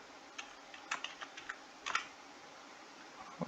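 Keys on a computer keyboard click in a short, uneven burst of taps, faint and close, over a quiet room hiss.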